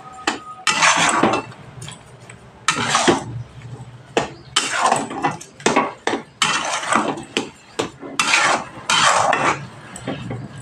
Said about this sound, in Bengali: দিয়ে ভালোভাবে মিশিয়ে দিতে হবে চিনির সাথে গাজর।